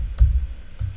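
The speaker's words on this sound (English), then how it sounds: "I'm just simply going to type in create me 6 call outs" A few quick keystrokes on a computer keyboard, soft close clicks spaced irregularly in a quiet room with no talking.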